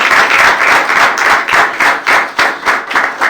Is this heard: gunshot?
no